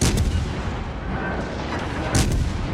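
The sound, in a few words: cruiser guns firing, video game World of Warships Legends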